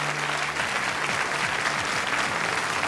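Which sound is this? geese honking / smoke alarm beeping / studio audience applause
studio audience applause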